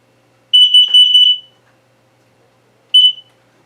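A household smoke and carbon monoxide alarm sounds two piercing high-pitched beeps, a longer stuttering burst followed after a gap by a shorter one, loud and close with nothing else audible.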